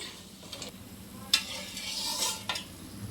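Gentle sizzle of peanuts frying in oil with a few scraping stirs and clicks, quiet and close, no talking.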